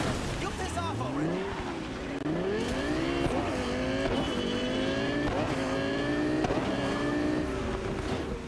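A fast car in the video game Cyberpunk 2077 accelerates hard through several rising gear sweeps, the engine roaring continuously and loudly with tire squeal mixed in.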